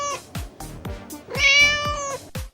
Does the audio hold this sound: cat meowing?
yes